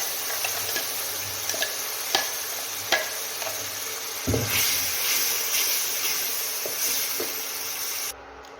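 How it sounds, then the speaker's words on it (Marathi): Ground ginger, garlic, coriander and tomato paste hisses and sizzles in hot oil, with a sudden louder burst midway and scattered clicks of a spoon stirring in the pan. "मिक्सरला वाटून घेतलेलं आहे आलं लसूण कोथिंबीर टोमॅटो तेला टाकून घेऊया"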